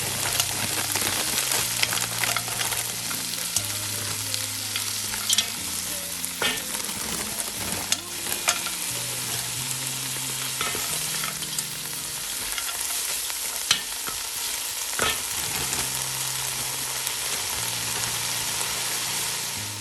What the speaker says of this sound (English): I'm adding in my peas. I'm adding the prawns.